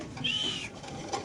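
Large pigeons kept in cages at a pigeon sale give a short, soft cooing call, heard close and alone for about a second.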